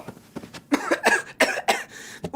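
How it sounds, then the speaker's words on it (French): A character in an animated French cartoon gives a short run of several harsh, spaced coughs, close and clear, with no other voices. "tu tousses, t'es malade?"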